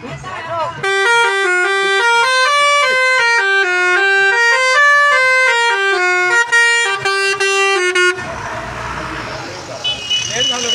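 A tour bus horn on a pilgrimage coach plays a loud, repeating melodic tune of stepped electronic tones for about seven seconds, then cuts off into crowd noise and voices nearby.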